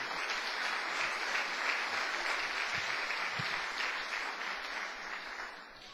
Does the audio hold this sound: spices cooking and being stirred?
no